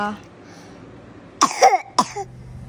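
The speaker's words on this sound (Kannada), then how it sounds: "ಸಿರಪ್ ಕೊಟ್ಟಾದ್ಮೇಲೂ ಈ ರೀತಿ ಕೆಮ್ಮು ಬಂದುಬಿಡ್ತು" After a quiet stretch, a child coughs twice in close succession, harsh and near, with a brief rasping tail after each cough.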